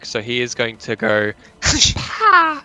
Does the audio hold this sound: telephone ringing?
no